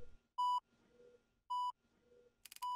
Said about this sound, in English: Oh, I hear beeping. I'm in the hospital.